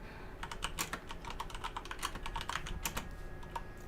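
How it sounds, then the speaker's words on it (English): Rapid typing on a computer keyboard during a 7 Days to Die livestream, a dense run of crisp, close key clicks in uneven bursts, with no talking. "Y'all get to see my mad, horrible typing skills."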